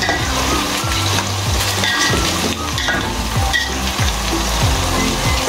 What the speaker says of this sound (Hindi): तो ये हम कर रहे हैं डीप फ्राई, और जब ये हल्की सी क्रिस्पी होने लगेगी तो हम इसे निकाल लेंगे एक तरफ।